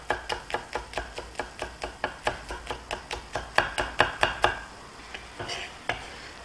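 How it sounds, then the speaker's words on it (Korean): A knife slicing green onion chops steadily on a cutting board, about twenty quick, even taps in a row, close and fairly quiet, then a few slower cuts. "칼질을 해주시면 됩니다"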